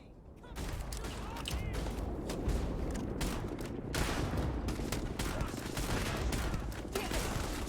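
Rapid, dense gunfire fills a shootout in the video game Starfield, with overlapping bursts and sharp cracks crowding together without pause over about seven seconds.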